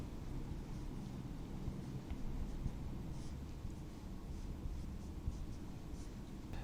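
Chalk or marker scratching steadily across a board as a chemistry lesson is written out, faint, continuous strokes with small ticks and taps, no voices.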